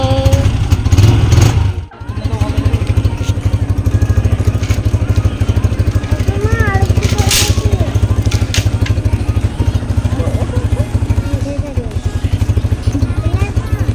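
A motorcycle carrying four people rides along, its engine droning steadily close up with a sharp dip early on, while voices chatter faintly over the ride.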